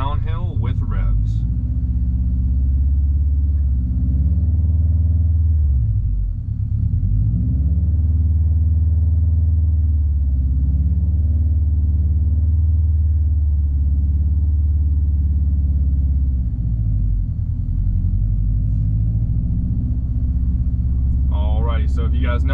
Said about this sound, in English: starting on the downhill with some revs, we will go ahead and take the parking brake off and put it in first gear.